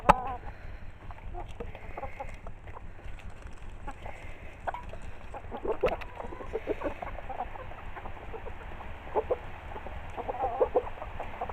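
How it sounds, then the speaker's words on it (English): Chickens cluck and call softly while pecking at soaked, softened banana peels, with scattered tapping and rustling. "I'm going to feed this to the chickens"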